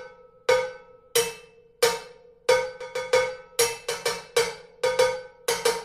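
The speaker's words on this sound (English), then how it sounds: "using dead strokes on cowbells" Sticks strike cowbells with dead strokes, about a dozen sharp, loud metallic hits that are choked quickly. They start as spaced single notes and then come faster in an uneven pattern, with no voices.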